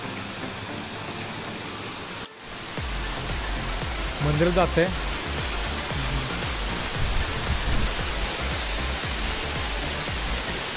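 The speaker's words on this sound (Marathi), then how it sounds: "त्याच डोंगरातून वाहणारा छोटा धबधबो" A small waterfall pours from a hill beside a hillside temple, giving a constant broadband rush of falling water up close, with a brief cut early on and a voice speaking over it.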